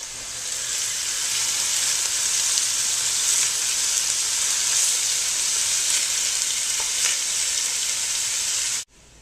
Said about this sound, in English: And you just break it apart with your wooden spoon.